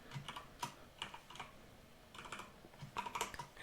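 Soft, close keystrokes as code is typed on a computer keyboard in a quiet programming session, clustered bursts of tapping separated by short pauses.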